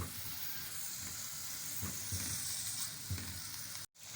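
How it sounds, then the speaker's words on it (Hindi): Onions sautéing in oil in a pan, a steady close sizzle and hiss with faint stirring scrapes underneath, continuous throughout with one brief dropout near the end. "अब हम इसको थोड़ी देर सौते करेंगे ताकि ये नरम हो जाए"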